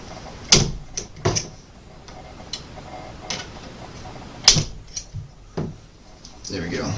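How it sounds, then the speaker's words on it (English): Metal pins being tapped out of the receiver of a 20-gauge Remington 870 Express shotgun, heard as a few sharp, close metallic knocks spaced irregularly, with light handling noise between strikes. "Let's knock these pins out real quick."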